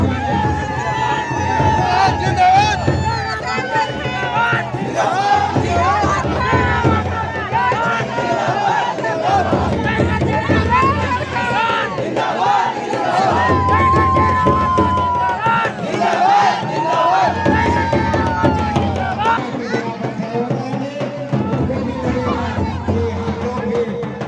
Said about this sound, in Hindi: ये देखिए स्टेडियम का नज़ारा कैसे है, कितना भीड़ है। देखिए पूरा भीड़ में भरा हुआ है।